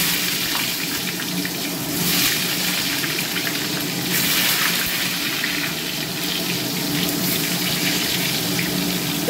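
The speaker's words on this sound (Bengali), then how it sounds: "তো তেলটা গরম হয়ে গেছে, এবার আমি একে একে করে বেগুনগুলো সব দিয়ে দেবো।" Brinjal slices frying in hot oil, giving a steady loud hiss and sizzle with a few brief surges as pieces are added, and no talk.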